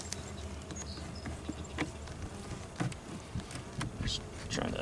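Honey bees hum and buzz around an open hive close by, a faint steady drone broken by occasional handling knocks and clicks, with no talking.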